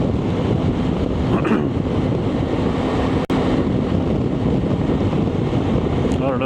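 Heavy wind roars over a BMW K1600 GTL motorcycle at speed on a freeway in New Mexico, a loud, constant buffeting rush close to the microphone with the engine buried beneath it.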